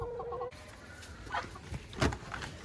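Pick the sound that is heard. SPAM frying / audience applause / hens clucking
hens clucking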